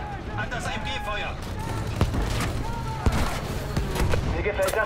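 Gunfire in the Battlefield V video game battlefield, a continuous dense crackle of weapons with sharper louder shots near two and three seconds, under steady voice and battle noise throughout.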